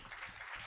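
An audience at a Hindi-Urdu poetry gathering claps for the poet Azhar Iqbal in a brief, dense patter of applause heard alone without talk.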